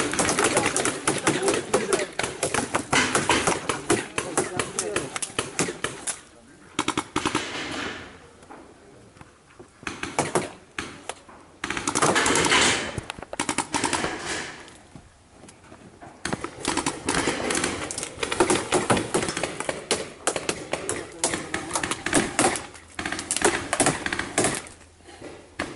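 Paintball markers firing during a tactical paintball game in the Mansion map at Scorpion paintball club: dense, rapid bursts of sharp pops and clatter in long volleys, with short pauses, loud and close.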